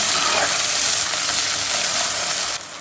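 Onion and tomato fry in hot oil, giving a loud, steady sizzling hiss that continues unbroken before dropping slightly in level near the end.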